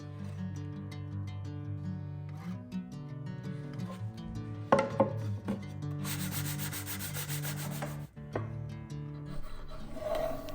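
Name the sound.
wood sanding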